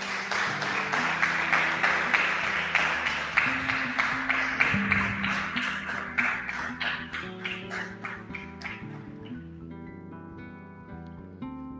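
A church congregation claps along in a steady rhythmic beat over organ or keyboard music, the clapping gradually thinning as sustained chords ring out at the end.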